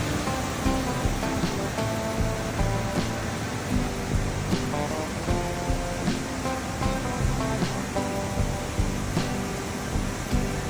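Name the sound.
waterfall in Georgia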